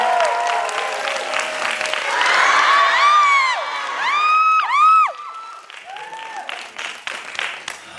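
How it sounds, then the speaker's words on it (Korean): A concert audience at a live show in a cinema hall claps and cheers during the encore, with high shouts and whoops rising over the dense applause before it gradually thins out. "박수"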